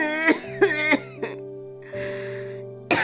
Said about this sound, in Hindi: माँ को खांसी आ रही थी।